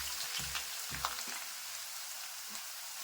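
Curry leaves and urad dal fry in hot oil in a pan, a soft steady sizzle with a few brief pops and crackles early on, quiet and close with no talking.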